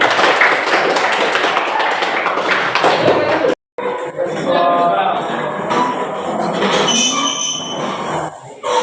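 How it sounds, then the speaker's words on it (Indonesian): Classroom pupils clapping their hands together, a dense burst of clapping for a few seconds that breaks off, followed by voices talking loudly over the room. "Tepuk tangan"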